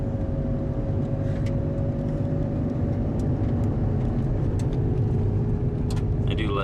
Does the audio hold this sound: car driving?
yes